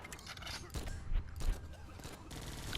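Rapid gunfire aimed at an anti-air emplacement in the game GU! Alliance Battles, a dense stream of shots with a few louder bursts.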